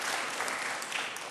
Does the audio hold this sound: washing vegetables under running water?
no